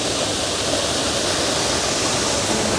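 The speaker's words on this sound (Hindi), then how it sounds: "ये वाटरफॉल के पीछे आ चुका हूँ मैं" A waterfall in Antalya, heard from behind the falling water: a dense, steady, loud roar of crashing water that fills the whole moment without a break and with no voices.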